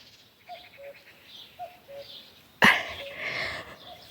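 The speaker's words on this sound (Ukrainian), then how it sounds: "Зозуля є." A cuckoo calls outdoors with repeated two-note calls that sound distant and soft, over quiet background noise. A sharp, loud close rustle or thump cuts in partway through.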